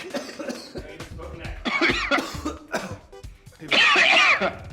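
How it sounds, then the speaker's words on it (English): Sick man coughing repeatedly and harshly straight into a microphone during a gaming talk show, several loud close bursts with throat clearing between them and a brief voice. "Please stop coughing on the mic."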